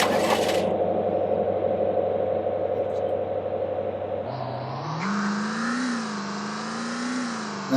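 Car engine in the zombie survival game VEIN holding a steady drone, then revving upward and rising in pitch as the car drives off, loud and close with no talking.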